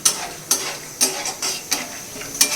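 Peanuts frying in hot oil in a pan, with dried red chillies added, give a soft sizzle broken by sharp stirring scrapes and clinks about every half second, close and moderately loud, with no voices.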